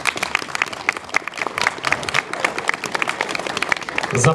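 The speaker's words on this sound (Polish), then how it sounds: "Brawa." Applause from an audience at an outdoor commemoration ceremony for the National Day of Remembrance of the Cursed Soldiers, dense, lively clapping that carries on steadily for several seconds.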